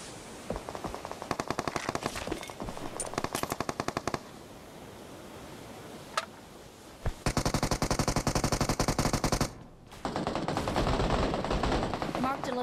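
Video game gunfire from a squad match, with rapid machine-gun bursts in long rattling volleys, brief pauses between them, and a sustained final stretch of dense shooting.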